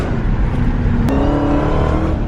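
A modified Dodge Challenger Hellcat's engine drones loud and steady at close range, a dense, rumbling roar with a brief sharp spike partway through.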